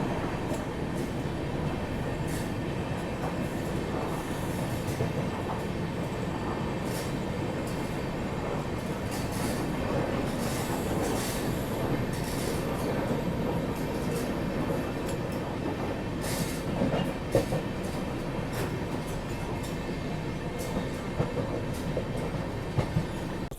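Karnataka Express passenger train running steadily on the rails, a continuous loud rumble of wheels and carriage noise with occasional clicks and clatter throughout, no talking.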